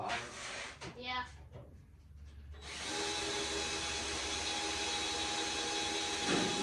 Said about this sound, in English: Yeah, why don't I drill them out?